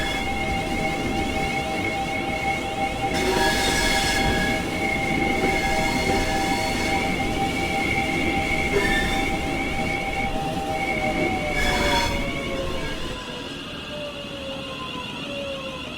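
A Class 700 electric passenger train departs a station at dusk, a sustained rumble with whining tonal motor notes and rising and falling pitches, fairly loud and steady before easing off near the end, with no voices.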